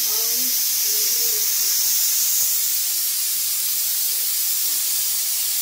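A pressure cooker on a home kitchen stove releases steam in a steady, loud, broad hiss that runs unbroken throughout, with faint voices and small kitchen sounds underneath.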